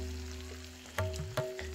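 Spices for tempering sizzle in hot oil, a soft crackle over a steady low hum, with two sharper pops near the middle of the short stretch.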